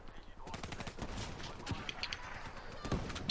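Rapid automatic gunfire from a weapon in a first-person shooter video game, bursts of shots rattling under someone speaking French.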